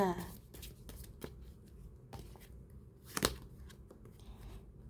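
Tarot cards are shuffled and drawn close by, with quick papery riffles and soft snaps and a sharper flick near the end, while someone talks softly over them.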